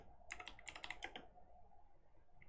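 Quick bursts of keystrokes on a computer keyboard during a Minecraft build session, a short cluster of clicks near the start that then stops, leaving low room noise.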